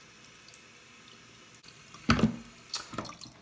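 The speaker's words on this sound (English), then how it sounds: "You open this up and you put water inside of it." Water poured into the reservoir of a water flosser: a short splashing burst partway through, then a few lighter trickles and drips, close by with no talking.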